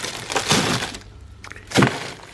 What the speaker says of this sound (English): I have ice cubes